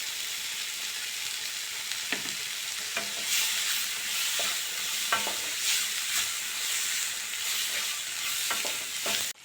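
Tomato and onion sautéing with turmeric and chili powder in a pan for spinach gravy, a continuous loud sizzle with occasional scraping stirs, no talking.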